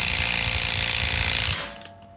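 Rapid mechanical ratcheting from a hand ratchet loosening 21 mm lug nuts on a 2011 Ford Mustang during rear brake work, loud and continuous for about a second and a half before cutting off, followed by a few faint clicks.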